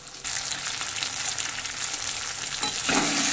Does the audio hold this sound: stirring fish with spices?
yes